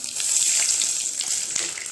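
Whole spices for aloo gosht (cumin, cardamom, cinnamon pieces, cloves and black peppercorns) sizzle and crackle steadily in hot oil, a close, continuous hiss with small pops and no talking.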